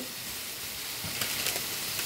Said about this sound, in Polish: jeszcze jedna pierś mi się już smaży tutaj warzywa na patelnię